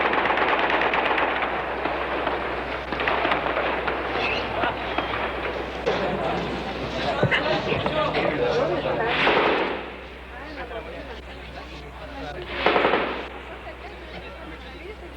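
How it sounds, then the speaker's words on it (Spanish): Machine-gun and rifle fire crackle in bursts as tanks and carabineros trade shots at the Palacio de La Moneda during the Chilean coup, a dense continuous barrage with louder cracks near the middle and end, over rumbling background. "los tanques intercambian disparos con los carabineros que se encuentran en el interior del Palacio de la Moneda"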